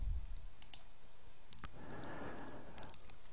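A computer mouse gives a few faint, sharp clicks close by, scattered singly and in quick pairs over a soft background hiss, with no talking.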